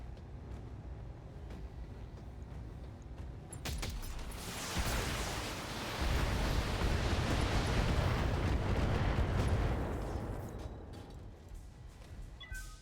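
BattleTech mech combat in a video game, heavy weapons fire and explosions building into a loud sustained rumbling roar with crackling bursts, fading slightly at the end.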